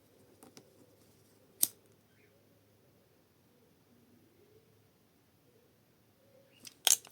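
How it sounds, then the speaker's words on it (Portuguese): Scissors snip off excess crochet yarn while a handmade crochet bag is being finished: two sharp, close snips several seconds apart against a quiet room background. "Aqui eu vou cortar o excesso dele"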